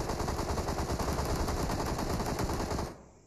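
Sustained rapid automatic gunfire from PUBG Mobile pours out loud and close, a dense rattling burst that cuts off abruptly near the end.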